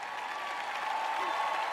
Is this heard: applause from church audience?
yes